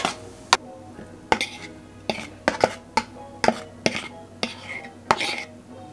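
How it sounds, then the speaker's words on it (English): A spoon scraping and tapping against a pan while turmeric-spiced patties and paprika are stirred together, about a dozen sharp clinks in an uneven rhythm, close and fairly loud over a quiet room. "And then you just stir it all up."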